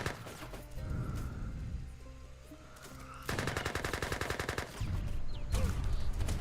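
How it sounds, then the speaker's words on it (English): In an Age of Empires 3 battle, Gatling guns fire on a tower: rapid, rattling bursts of automatic fire come in sharp, dense stretches, mixed with other battle noise and without any talking over them. "Trying to use the Mia Toulouse Gatlings here to take apart this tower"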